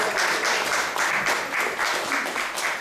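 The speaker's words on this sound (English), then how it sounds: "Let's give a round of applause for her." An audience at an ISKCON temple in Atlanta claps in a brief round of applause, a steady close patter of many hands lasting a few seconds.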